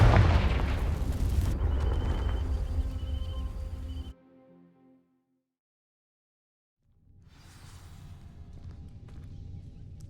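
Blasting curse erupting in a fantasy game, a loud dense burst that fills the first seconds, cuts off abruptly into near silence, then a softer rumbling wash of ambience returns.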